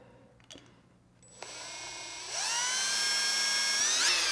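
An inexpensive drill bit bores a hole, starting with a few faint knocks before the motor spins up and then settles into a loud, steady, high-pitched whine that climbs slightly in pitch near the end.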